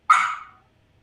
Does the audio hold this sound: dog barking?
yes